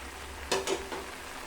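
Kirsali greens simmer in a pan as their released water cooks off, a low steady sizzle with two or three quick scraping stirs of a spoon, brief and close, without speech.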